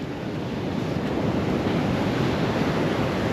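Ocean waves break continuously on Sapphire Beach at Coffs Harbour, NSW, Australia, on a morning shoreline. The surf is loud and steady, mixed with wind buffeting the microphone, and no one speaks.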